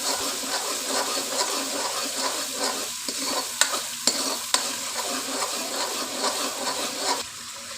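Tomato paste stirred into ginger-garlic paste frying in a kadhai for Marathwada-style pav bhaji, a steady close sizzle with scraping spoon strokes and a few sharp clinks of utensil against the pan.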